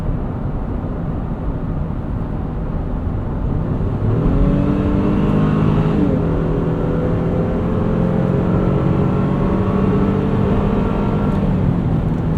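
A 2023 Honda Pilot Trailsport with a V6 and 10-speed automatic driving, a steady engine and road hum heard from inside the cabin with a smooth rise in engine pitch as it accelerates and shifts.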